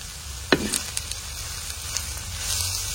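Moringa leaves dry roasting with black salt in a pan, a soft crackle and light sizzle with a sharp scrape or knock of the spatula near the start and faint stirring after.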